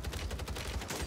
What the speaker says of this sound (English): We're shooting everyone on this guy.